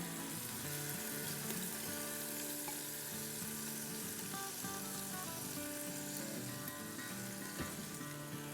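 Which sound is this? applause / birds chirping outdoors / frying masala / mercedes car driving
frying masala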